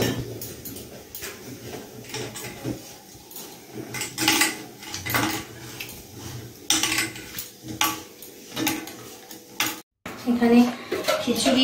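Dried, pre-roasted lentils are washed in a kitchen pot, with metal pot and utensil clatter, scraping and water handling in uneven bursts, and a voice talking over it at times.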